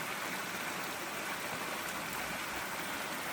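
Water gushes steadily out of a rainwater harvesting dam on a farm, a loud continuous broadband rush like a stream or small waterfall, close by and unbroken, with no voices.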